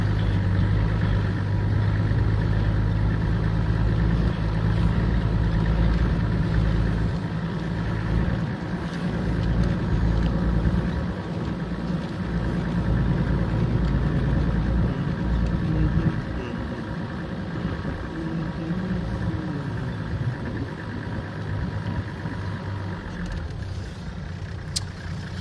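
A vehicle engine idles steadily nearby at a roadside stop, a continuous low rumble that holds throughout and eases slightly toward the end.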